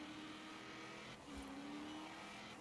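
Race cars roaring through a corner in Forza Horizon 4 ranked free-for-all racing, a sustained engine drone that shifts pitch as several cars pass, faint and steady.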